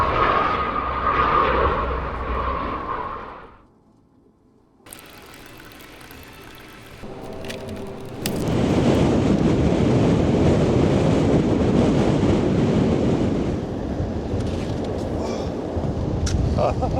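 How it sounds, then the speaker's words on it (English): Snow sliding off a cabin roof into a truck bed in deep snow: a soft rushing slide, a brief hush, then a long, loud, windy whoosh of pouring snow. "All this snow just poured in to the truck right off the roof."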